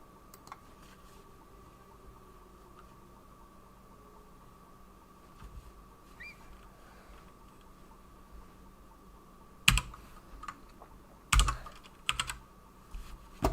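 Someone types on a computer keyboard during a Shadow of the Colossus speedrun, giving sparse, quiet clicks at first and then a few louder, sharper clusters of keystrokes near the end over a low steady hum.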